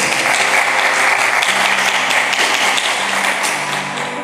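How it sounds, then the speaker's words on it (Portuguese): A church congregation at a Portuguese-language evening service applauds in a loud, dense, continuous burst of clapping that holds steady throughout. "Quem pode aplaudir Jesus por isso?"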